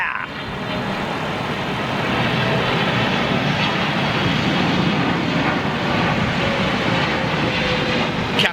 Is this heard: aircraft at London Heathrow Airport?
yes